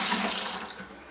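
Water splashes and trickles steadily as a sponge is rinsed out for wet sanding drywall joint compound, a close, continuous wet wash with no voices.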